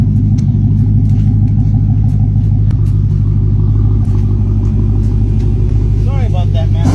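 A 2016 Dodge Charger with a touchy throttle rumbles loud and close at a deep, steady idle, with brief throttle blips on top. Near the end a voice talks over the engine.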